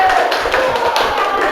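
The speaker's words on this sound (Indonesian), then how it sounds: "Nah, tepuk tangan." Classroom of children clapping together after a group game, a dense continuous patter of many small hands close by with a voice mixed in.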